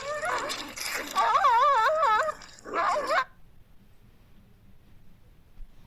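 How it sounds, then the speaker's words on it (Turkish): Dogs fighting among trees outdoors whine and yelp in rising, wavering cries, several bursts in quick succession, then fall quiet. "şöyle köpekler kavga ediyor"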